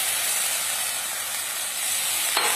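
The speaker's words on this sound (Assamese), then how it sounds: "আৰু এতিয়া দিম মই পানী।" Water poured onto fried masala in a pan for an Assamese kuchia fish curry, giving a loud, close, steady hissing sizzle of steam with a brief sharper burst near the end.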